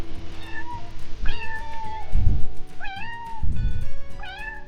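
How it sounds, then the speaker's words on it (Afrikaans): A kitten sitting on a fence meows repeatedly as a story sound effect, giving about four clear, high, rising-and-falling mews in succession, close and loud, with soft low thumps between them. "Dirkie stap verder en sien vir Silkie, die katjie wat op die heining sit."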